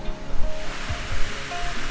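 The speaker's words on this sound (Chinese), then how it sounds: "连这里有瀑布，下面还有小溪，真是山清水秀啊！" A mountain waterfall feeds a small stream below on a forested hillside, giving a loud, continuous rushing roar with a churning low rumble and no speech.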